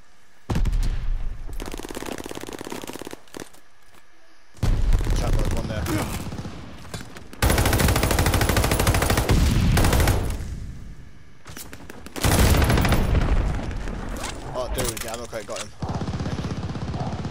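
Heavy automatic gunfire in a Call of Duty Search and Destroy match, shooting through a wall: loud, close volleys lasting several seconds each, separated by short gaps and abrupt cutoffs.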